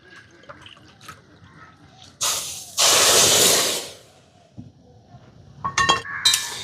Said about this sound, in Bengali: যতটা চিনি ঠিক ততটা পরিমাণেই জল দেবো